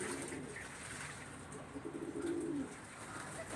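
Pigeons coo softly as they bathe in water, a low repeated cooing under a steady background hiss.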